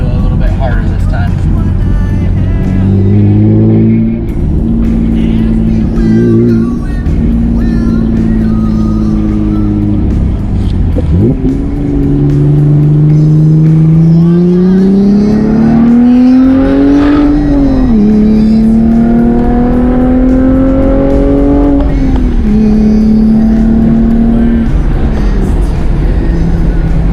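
A 2016–2018 Chevrolet Camaro V6 with a cold air intake revs up hard through rising gears on a highway, its pitch climbing and dropping with each shift, loud and close over steady wind and road noise.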